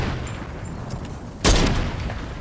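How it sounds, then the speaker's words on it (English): Video game gunfire: one sharp, fairly loud shot bursts out over a constant wash of in-game background noise, with a few fainter, more distant pops scattered around it. "There's also shots over here."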